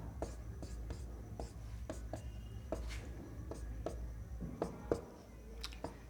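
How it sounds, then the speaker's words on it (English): Chalk or marker writing on a board during a chemistry lesson, heard as a series of short, soft taps and strokes at an even pace, close by and moderately quiet over a low room hum. "we write digit 2 here"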